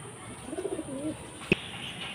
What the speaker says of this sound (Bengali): সব বন্ধ লেজের পায়রা, খুব ভালো জাতের পায়রা